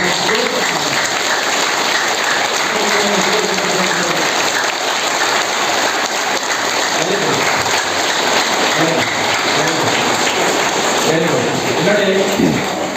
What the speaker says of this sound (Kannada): ಹಾಗಾಗಿ ಅವಕಾಶ ಸಿಕ್ಕಿದ್ರೆ ಜೋರು ಚಪ್ಪಾಳೆ ಹೊಡೆದಿರೋದು